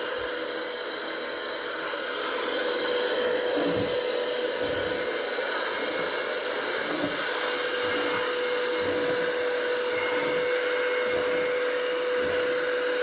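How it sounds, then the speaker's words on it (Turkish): A vacuum cleaner runs continuously and loudly nearby, a steady roaring whine with a high tonal hum that never lets up. "Bayağı yüksek bir sesi var."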